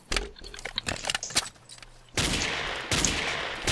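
Gunfire in the video game Ace of Spades: a quick series of sharp cracks and bursts, then two longer loud blasts of sustained fire.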